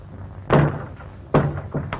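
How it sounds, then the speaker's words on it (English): A door in an early-1930s western film bangs shut with a sharp wooden thud, followed by a second similar bang and a lighter knock, each close and distinct against a quiet background. "Close the door, Butch."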